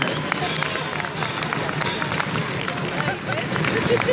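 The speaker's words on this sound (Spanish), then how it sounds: "Un aplauso para nuestro presidente." Crowd at an institutional political event applauding the president: dense, steady clapping from many hands close by, mixed with general crowd murmur.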